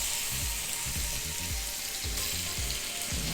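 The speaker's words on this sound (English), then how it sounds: "We are gonna add our chicken. Hear that sizzle?" Chicken pieces sizzle steadily in a frying pan, a dense close crackle with soft, regular stirring or scraping thumps underneath.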